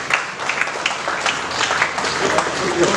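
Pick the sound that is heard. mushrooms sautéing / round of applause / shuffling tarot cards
round of applause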